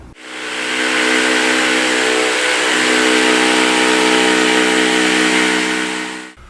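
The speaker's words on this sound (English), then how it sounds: "I'm going to cut it out again on my jigsaw" A jigsaw cuts a wooden semicircle in one continuous loud pass, a sustained buzzing whine that starts abruptly, holds steady for about six seconds and stops, with no voices.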